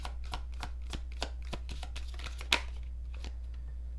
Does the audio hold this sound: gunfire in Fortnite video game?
no